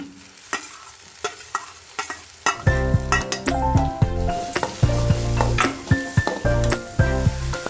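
Finely chopped onions drop into hot oil for street-style Gobi Manchurian and fry with a bright sizzle, punctuated by repeated sharp clanks of a spatula stirring against the pan, loud and close.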